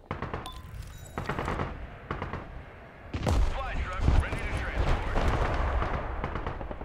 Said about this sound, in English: It's amazing how when you fire the artillery it gives it a fucking circle, but then it fires nowhere near the fucking circle.